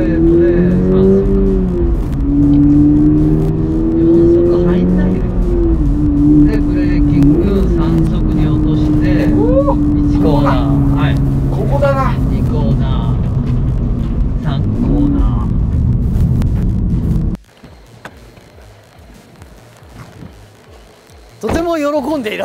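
A Toyota GR86 laps a race circuit, downshifting to second for the final corner and then upshifting to third on the straight. Its engine note rises and falls through the gear changes and is loud and close, with people talking over it before it briefly cuts out.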